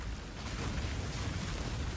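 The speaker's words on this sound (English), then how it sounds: "Bit of chain explosions?" Chain explosions in the Path of Exile video game, a dense, rumbling burst of overlapping booms that stays loud and steady for a couple of seconds.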